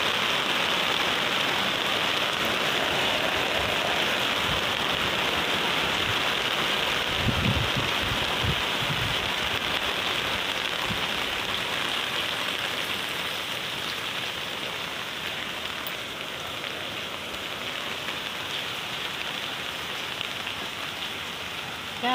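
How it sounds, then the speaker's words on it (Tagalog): Heavy rain pours down steadily during a flood in San Rafael, Bulacan, a dense continuous hiss of drops on surfaces, loud and unbroken, with a few low thumps early on and no voices. "Kagabi pa ang ulan dito guys."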